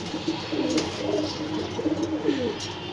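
Pigeons cooing softly indoors in their room in low, rolling murmurs, several overlapping calls close by against a faint background hum.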